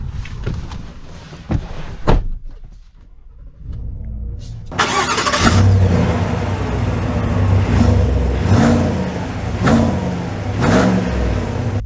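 A 2023 Chevy Silverado Trail Boss Midnight Edition with a 6.2 V8 starts up after a few quiet clicks: the engine catches with a loud burst, then rumbles and revs steadily as the truck pulls away.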